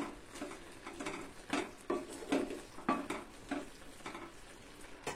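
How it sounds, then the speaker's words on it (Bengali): Dried red chillies are stirred into mango pickle in a pan, giving a series of soft, irregular scrapes and clinks from a spoon against the metal, close by and fairly quiet. "এবার আমি দিয়ে দিব, দিয়ে আবার একটু নেড়ে ছেড়ে দিব।"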